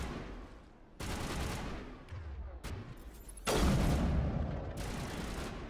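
Heavy gunfire and sniper shots from the Mass Effect video game crack in loud, dense bursts, with several sharp onsets and one especially loud blast midway, a near, continuous combat barrage.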